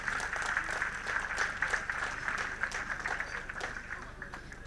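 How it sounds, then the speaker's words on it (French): An audience at a Miss Burkina Faso pageant event claps steadily for several seconds, a lively mid-distance round of applause with faint voices mixed underneath. "On l'applaudit très très fort, s'il vous plaît."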